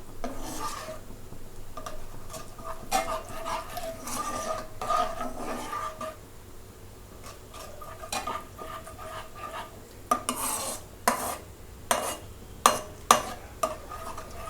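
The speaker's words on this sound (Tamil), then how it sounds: "இப்போ இதை வந்து நம்ம நல்லா மிக்ஸ் பண்ணி விடலாம்" Orange chicken sauce thickened with cornflour slurry is stirred in a pan, a steady scraping and rubbing with soft sizzle, ending in a run of sharper, louder utensil scrapes close by.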